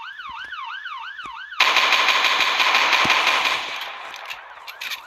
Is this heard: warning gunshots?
yes